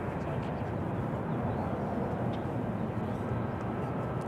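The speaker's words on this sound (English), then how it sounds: "A lot of exec jets departing now." Business jets departing Raleigh-Durham airport produce a steady, distant broadband roar of jet engines that stays constant with no break, faint and airy, with a voice faintly present beneath it.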